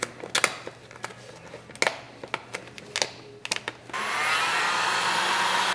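Scattered light clicks and taps, then a heat gun switches on and blows a loud, steady airy roar onto Tinybot vinyl wrap film being worked over a car's front bumper.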